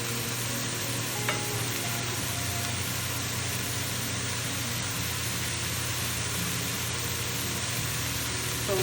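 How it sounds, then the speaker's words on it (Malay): Carrot, onion and garlic cooking in a pan for a beef stew, a faint steady sizzle running without a break over a low background hum. "So cook it for like 3 to 4 minutes until our vegetable is translucent."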